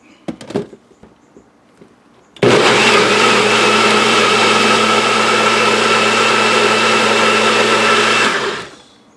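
A kitchen blender whirs loudly and steadily for about six seconds as it purees tomatillos for fresh salsa, starting abruptly after a few light clicks and winding down at the end.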